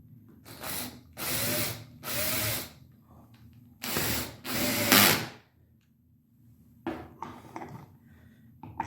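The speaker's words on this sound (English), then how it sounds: "At this point I've just used the drill" A power drill drives a bolt and its mechanism onto a hydraulic spool during a manual seal replacement, with five close, loud whirring bursts of about a second each, then quieter clicks and handling sounds.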